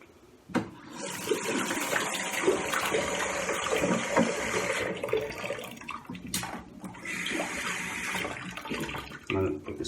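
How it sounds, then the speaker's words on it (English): Hot water gushing steadily from a bathroom tap for several seconds, splashing and fluctuating as hands move under the stream, with a brief break partway through. "I'm going to put this under hot water"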